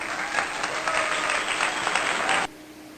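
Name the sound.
applause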